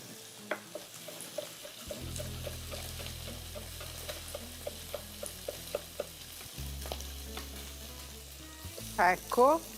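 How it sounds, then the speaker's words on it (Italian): Butter sizzles in a frying pan over a very low flame, a steady close crackle and hiss broken by small ticking pops, with a low hum underneath and a couple of brief metallic clinks near the end. "senti come sfrigolia?"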